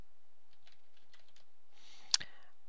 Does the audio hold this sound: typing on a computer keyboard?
yes